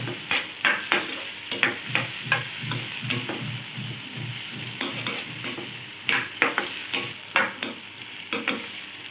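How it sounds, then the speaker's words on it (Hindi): Capsicum and other vegetables for spicy vegetable Hakka noodles stir-fried in a pan, with repeated scraping and tossing strokes over a steady sizzle, close and moderately loud, no talking. "अब हमने शिमला मिर्च डाल देनी है क्योंकि ये थोड़ा सा टाइम ज़्यादा लेगी टमाटर की बजाय"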